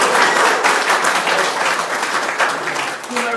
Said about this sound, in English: Everyone should clap his hands for himself.